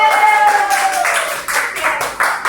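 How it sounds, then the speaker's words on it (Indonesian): A small classroom group claps for the students, a short scattered burst of hand claps, close and fairly loud, over a lingering tone at the start. "Kasih aplaus dulu untuk kita"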